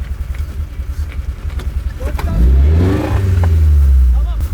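The engine of a cheap off-road car stuck in mud revs hard and rises into a loud, sustained roar as it strains against the muck. Voices talk over the engine noise.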